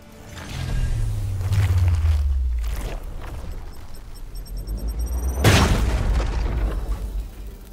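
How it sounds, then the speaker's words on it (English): A grenade blast in the Warhammer 40k: Chaos Gate - Daemonhunters video game: a deep rumbling boom builds and fades, then a sharp loud burst hits with a metallic ring and a lingering low rumble. "Thinking about using someone else's grenade"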